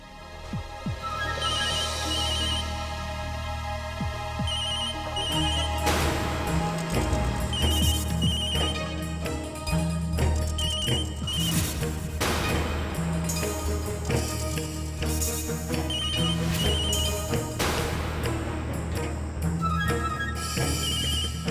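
A telephone rings with a repeating melodic ringtone in a Hindi TV serial household scene. The tune plays steadily and fairly loud for about twenty seconds, with no talking over it.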